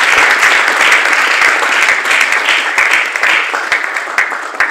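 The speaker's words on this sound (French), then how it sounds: "Est-ce qu'on peut applaudir pour l'artiste" An audience at an awards ceremony breaks into close, loud applause for an artist. The brisk clapping from many people fades slightly toward the end.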